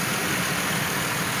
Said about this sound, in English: so we're going to let it run a little more and bleed it out